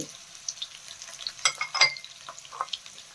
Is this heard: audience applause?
no